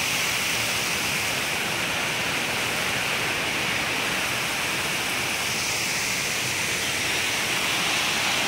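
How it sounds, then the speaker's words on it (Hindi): Katulkasa waterfall near Keshkal in Chhattisgarh, a steady, dense roar of falling water that fills the whole clip, loud and continuous with no voices. "तो ये रहा दोस्तों कटुल कसा वाटरफॉल"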